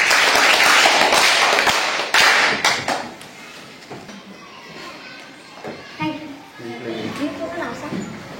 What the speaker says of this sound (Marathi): कल्पेशसाठी सगळ्यांनी टाळ्या वाजवायच्या.